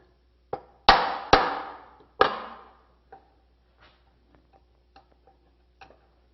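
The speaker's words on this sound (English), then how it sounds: "so I'm going to use a chisel just to square up the" A chisel is struck a few times to square up a router-cut corner in wood for a four-poster bed, giving sharp, close taps in an uneven burst followed by fainter light ticks.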